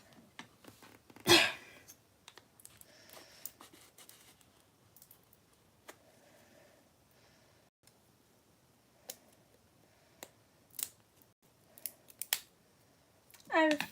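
Scissors snipping at a plastic paint package while customizing a toy figure, as several quiet sharp snips and crinkles spread across a hushed room, with one louder cut near the start and another at the end.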